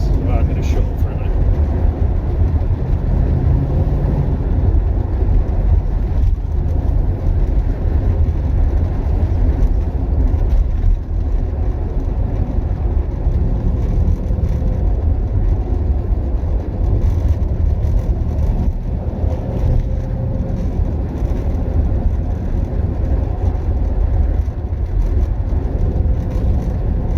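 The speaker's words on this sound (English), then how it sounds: "let you appreciate driving a Triumph Stag whilst following a Rover P6" A Triumph Stag drives along a road following a Rover P6, a steady, loud low engine drone and road rumble from inside the car, continuous throughout with no clear breaks.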